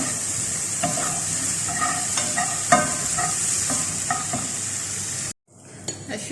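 Chopped onions frying in a hot pan for a jersh dish, a steady bright sizzle broken by repeated scraping stirs of a utensil, close and fairly loud, then cutting off abruptly near the end.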